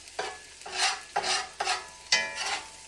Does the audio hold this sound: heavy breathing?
no